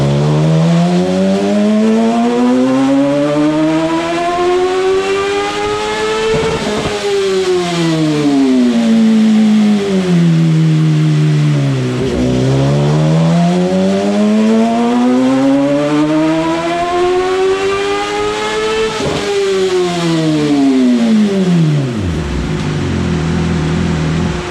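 A 2016 Suzuki GSX-R 1000 motorcycle runs on a dyno with a full exhaust and no tune, the loud engine revving up in long sweeping pulls, dropping back and climbing again several times, with no one talking.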